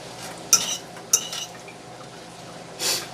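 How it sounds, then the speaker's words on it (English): A lid set onto a cooking pot of keto egg roll in a bowl, two sharp close metallic clinks in quick succession followed by a softer scrape a moment later, against a faint kitchen background. "So what I'm going to do is put the top on it"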